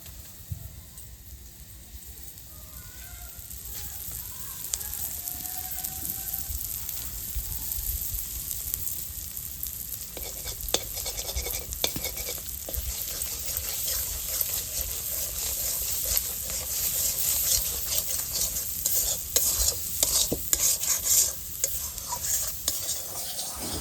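Two eggs go into a pan of greens and are stirred while frying, making a steady close sizzle broken by scraping stirs that grow busier over time, with no voices.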